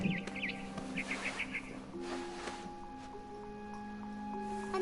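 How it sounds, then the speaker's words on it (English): Barn swallow chirping in the video game What Remains of Edith Finch: a quick run of bright, repeated chirps near the start, then quieter calls over a steady background hum and soft ambient tones. "Then I heard chirping outside my window."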